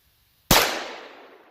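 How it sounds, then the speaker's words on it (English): A single loud, close gunshot from a Rock Island M200 revolver at a shooting range: one sharp crack that rings out and decays over about a second. "Apparently I'm shooting high."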